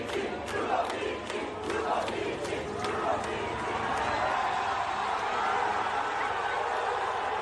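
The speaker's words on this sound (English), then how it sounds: "the crowd started chanting the name of the Aston Martin reserve driver, Felipe Drugovich." A Formula 1 grandstand crowd chants a reserve driver's name, a loud, dense roar with rhythmic rising shouts carried over steady broad crowd noise, heard at a distance.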